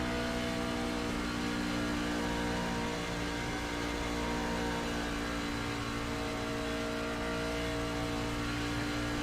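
A race car engine in the iRacing sim at Watkins Glen holds a loud, steady high-revving drone, close and constant, with slight pitch changes as the car follows the racing line.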